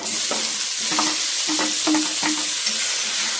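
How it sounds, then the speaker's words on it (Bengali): Onions, ginger-garlic paste and tomato stir-frying in a pan, giving a constant loud sizzle with a steady series of rhythmic spatula scrapes and taps, about one every half second, close by. "টমেটো দিয়ে একটু কষিয়ে নিচ্ছি।"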